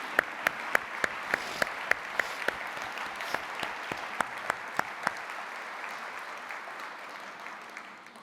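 An audience at a hospice fundraising event applauds standing sustainers, a steady, even roar of clapping from a large crowd with a few sharp, close claps standing out early, fading softly at the close.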